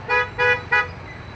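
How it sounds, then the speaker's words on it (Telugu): Vehicles honk at a railway level crossing in Vijayawada (Gunadala) as the gate opens: three short, loud car-horn toots in quick succession over a low traffic rumble. "గేటు ఇప్పుడే వదిలారు వాహనాలు చూడండి"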